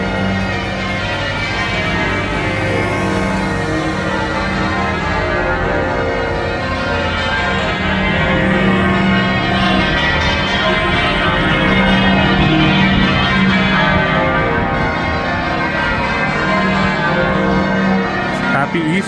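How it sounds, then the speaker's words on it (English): The large bells of St. Paul's Cathedral in London ring out at Easter in a continuous, overlapping peal, loud and resonant, with a busy outdoor background beneath them. "Listen to these bells, St. Paul's Cathedral."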